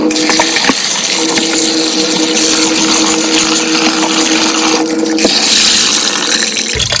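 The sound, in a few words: water running over efo vegetables in a sieve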